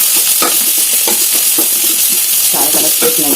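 Onions fry in a pan on a low flame, giving a constant loud sizzle while a utensil stirs them with repeated scraping strokes, close and without talk.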